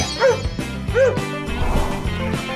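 A toy dog sound from an animal puzzle plays two short electronic barks close up, followed by softer yips and whimpers.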